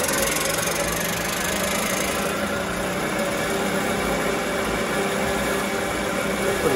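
A Chris Craft boat engine with a Paragon P44R marine transmission run up toward wide open throttle, a steady, fairly loud mechanical drone with a knocking, vibrating edge that holds throughout.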